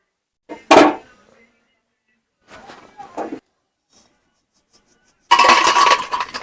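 Hard, sweet kotkoti made from bread clatters in a pan: a few separate bursts of clinking and rattling, with quiet gaps between them, ending in a louder stretch of clatter.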